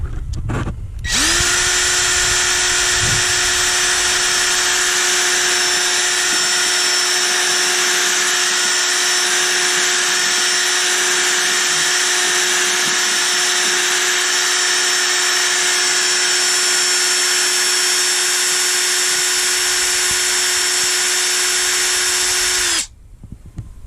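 A power drill with a mixing attachment stirring wax into wood finish, one steady loud high whine running unbroken for about twenty seconds before it cuts off, with a short rattle at start and end.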